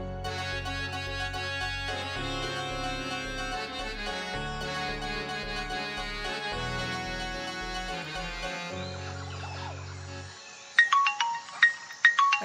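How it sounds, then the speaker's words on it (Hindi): An electronic ringtone melody plays with steady bass beats, then stops, followed by short bright chiming tones near the end. "अरे किसका फोन आ गया रे?"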